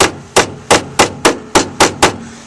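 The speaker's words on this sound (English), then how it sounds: "You want to take a hammer and you want to just tap it into here" A hammer taps a small flathead screwdriver during headlight removal on a Ford Bronco: eight sharp, evenly spaced metallic strikes, close and loud, with no talking.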